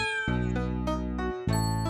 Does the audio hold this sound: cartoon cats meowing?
yes